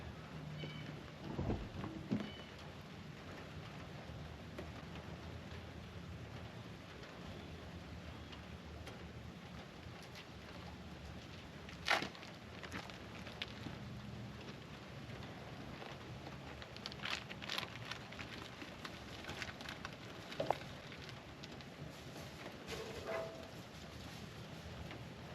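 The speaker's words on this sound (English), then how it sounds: "Always raining." Rain falls steadily as a faint, even hiss, with scattered drop ticks and an occasional louder tap or distant rumble, and no voices.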